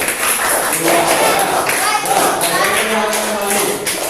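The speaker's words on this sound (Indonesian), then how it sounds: "Nah, sudah beri tepuk tangan dulu untuk kelompok 2." Classroom applause for group 2, loud and continuous with sharp claps, mixed with students' voices talking over it.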